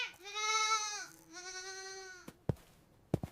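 An animated goat lets out two drawn-out, nasal bleats in a row, followed by a few sharp clicks and taps.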